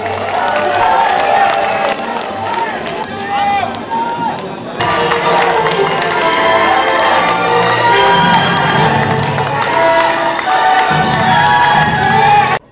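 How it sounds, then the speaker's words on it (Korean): A large crowd at a party convention in Gwangju claps and cheers loudly, with shouts and voices mixed into the dense noise and a brief dip partway through. "박수 부탁드립니다."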